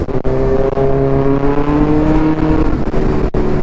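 Suzuki GSX-1000 and Kawasaki Z900 superbikes race, their engines holding a loud, steady high-revving drone with rising harmonic tones and brief dips between gear changes.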